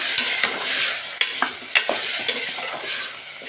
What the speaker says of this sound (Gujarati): દાળ નાખું છું। ટામેટાની ગ્રેવી નાખું છું। મિક્સ કરી લઈશું આપણે